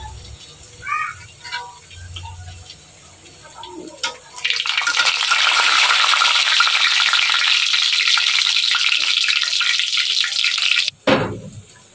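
Dried red chillies and cumin seeds tempered in hot oil and poured into jackfruit seed dal, bursting into a loud, sustained sizzle after a few quiet kitchen sounds and brief low voices.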